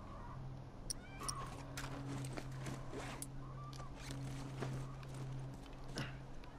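In The Last of Us video game, a horse snorts and shifts with soft hoof steps close by, mixed with rustling, footsteps and faint game ambience over a low steady hum.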